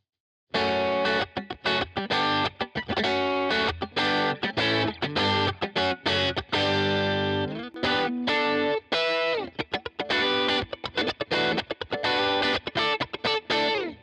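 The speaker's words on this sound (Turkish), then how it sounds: "Mesela bu distortion bir sesti. Crunch sesler var." Heavily distorted electric guitar plays crunchy chords and riffs, loud and sustained, with brief gaps between strums and no voices.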